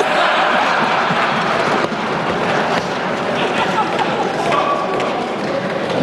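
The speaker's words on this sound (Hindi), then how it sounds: "बजाओ जोरदार ताली।" A large audience at a Ramdas Athawale speech on the Waqf Bill breaks into loud, dense applause that roars on steadily for the full stretch with no pause.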